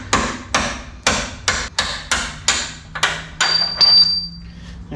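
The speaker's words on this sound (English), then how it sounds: "I'm going to try to hit these bolts out with this brass punch." Close, sharp metallic hammer strikes on a brass punch drive bolts out of a Dodge Dakota 8.8 rear end, about ten blows in a steady rhythm roughly two per second, and a ringing tone follows the later hits.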